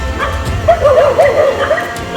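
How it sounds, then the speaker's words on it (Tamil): Several dogs at the Karak Shivan temple give high, wavering yips and whimpering whines in quick, repeated bursts. The calls sit close and fairly loud over a low rumble of outdoor background noise. "ஏன்னா இங்கே வந்து நாய்கள் நிறைய இருக்குது."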